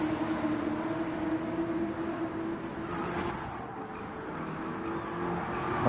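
A NASCAR stock car engine revving at Watkins Glen in a racing video game, a loud continuous engine drone with steady tonal whine and a brief rise partway through, no talk.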